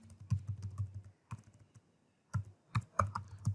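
Java code being typed on a computer keyboard, with quick bursts of close key clicks broken by short pauses.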